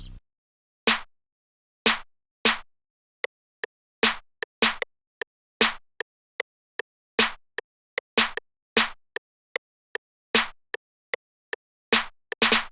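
A long snare sample programmed in FL Studio hits repeatedly in a sparse, syncopated pattern, each crisp crack loud and isolated against silence.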